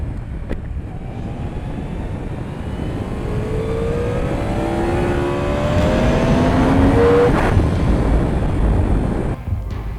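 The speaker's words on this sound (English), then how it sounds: "That Big Bang engine sound will never get old." A Yamaha superbike with a Big Bang engine revs hard and steady, its loud rasping roar rising and swelling through the middle before easing slightly, with wind buffeting throughout and no talk.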